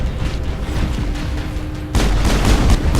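A grenade blast in the Mass Effect game, a loud close boom that erupts partway through over an already noisy firefight rumble and lingers as a dense roar.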